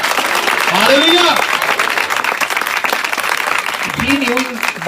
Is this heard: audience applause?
yes